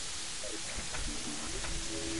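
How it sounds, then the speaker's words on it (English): Rain in the video game Terraria, a soft steady hiss of falling drops that fills the background evenly, with faint scattered game tones over it. "Now it's raining."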